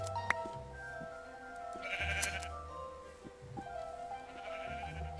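Minecraft sheep bleating while being sheared in the video game, several short bleats and clicky game sounds at moderate volume, with no talk over them.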